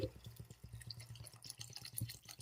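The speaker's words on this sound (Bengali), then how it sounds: "আমি এখানে একটা 600 ml এর বোতল থেকে জল দিয়ে দিচ্ছি।" Water poured from a 600 ml bottle into a pot of vegetable pulao, giving a steady close liquid splashing and dripping with a regular pulsing rhythm, with no talking.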